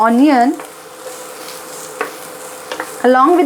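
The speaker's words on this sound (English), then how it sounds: "then we'll add 1 big onion cut into finely chopped. Mix it well." Finely chopped onion fries in hot oil with cumin seeds, a steady sizzle under scattered scrapes of the spoon against the pan, while someone speaks briefly at the start and end.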